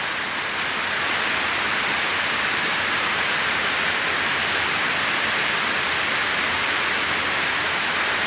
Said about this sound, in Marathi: थेंब इतके जोरदार पडू राहिलेले आहेत